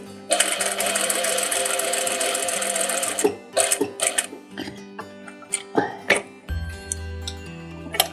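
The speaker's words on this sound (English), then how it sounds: "stitch close to the edge. This is your top stitching, keep it in place and making it look" A sewing machine runs a steady, loud buzzing stretch of top stitching along a jeans zip, then stops and restarts in short bursts mixed with clicks and clinks of handling.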